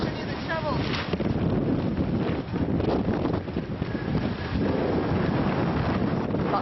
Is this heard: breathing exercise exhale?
no